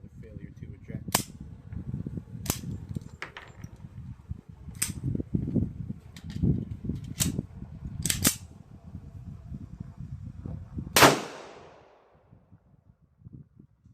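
A restored 1954 Colt 1911 pistol fires at an outdoor range, several sharp, widely spaced shots over a background of low rumble and faint voices, the last report loud and ringing out before near silence.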